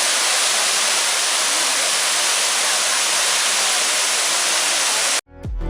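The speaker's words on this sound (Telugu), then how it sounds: "అబ్బే వాటర్ ఫాల్సు" Abbey Falls, a waterfall in Coorg, roars as a dense, even hiss of rushing water, loud and unbroken for about five seconds before it cuts off abruptly.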